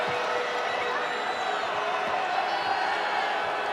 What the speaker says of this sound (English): Now cheers from the crowd with Louisville in possession.